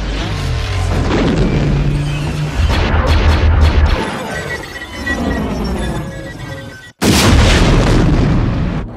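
Missile explosions in a Star Wars: Attack of the Clones battle scene boom loudly one after another with rumbling blasts and crashing debris, a brief drop to silence, then another heavy explosion.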